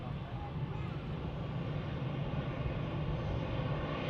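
An EasyJet airliner at Manchester Airport gives off a steady, broad jet engine roar, distant and even, holding at a constant level.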